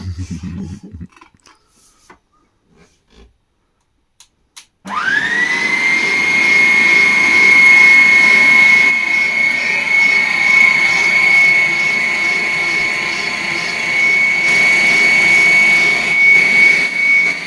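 Electric whisk beating a sponge cake mixture for a Yule log: after a few seconds of faint clatter, a loud, steady motorised whir starts and runs on without a break, holding a high, even tone.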